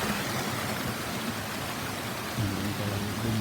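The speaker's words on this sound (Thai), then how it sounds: "น้ำตก" Steady broadband rush of a waterfall in the countryside of Xaisomboun province, Laos, continuous and fairly close, with no voices.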